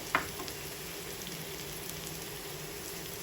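Bay leaf and whole spices frying in hot oil, a faint, even sizzle with one small pop near the start.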